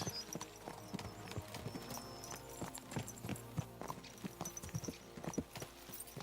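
Horse hooves gallop in a rapid, steady clip-clop rhythm in Kingdom Come Deliverance 2, loud and close, over a continuous background music bed.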